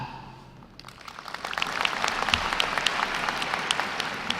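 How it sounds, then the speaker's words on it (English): Audience at a university fall commencement ceremony breaks into applause after a quiet start, building into steady, dense clapping from a large crowd that carries on evenly to the end. "You are encouraged to clap"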